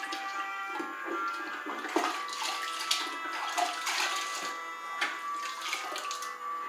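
Grout sponge being rinsed in a bucket of water after wiping a subway tile niche, with steady sloshing, splashing and dripping close by, alone with no talk.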